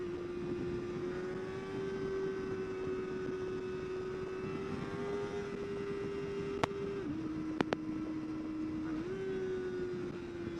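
Small-displacement 2024 Kawasaki ZX-4RR motorcycle engine holding a steady high-pitched drone in second gear, briefly dipping and rising in pitch near the end, with a few sharp clicks; no talking.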